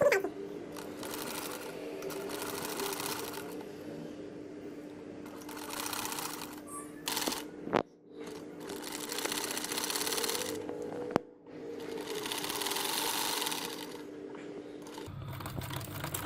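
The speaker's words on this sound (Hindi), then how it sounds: "अब मैं इसे मशीन के पैर के वक्फे से सिलाई लगाने लगी।" A sewing machine stitches a seam on a lehenga for an 8 to 10 year old girl, running in steady whirring bursts with brief stops between runs, close and clear.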